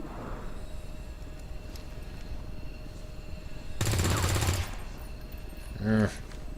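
Gunfire in the tactical strategy game Long War: a sharp burst of rapid automatic shots midway, followed by a shorter loud report near the end, over a quiet ambient background.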